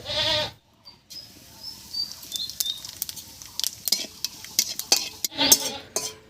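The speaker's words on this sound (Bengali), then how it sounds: "এবার এর মধ্যে ফোড়নের জন্য দেবো হাফ চামচ গোটা জিরা আর একটা তেজপাতা" Cumin seeds and a bay leaf tempering in hot oil for a khoira fish curry: irregular close crackles and small pops, with light clinks of a utensil against the pan.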